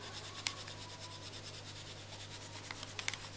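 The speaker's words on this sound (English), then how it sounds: "So I take a burnishing stone, and I apply a very little pressure at first" An agate burnishing stone rubs across gilded gold leaf, giving a soft, steady close scraping hiss with a few faint ticks toward the end, under a low constant hum and no talk.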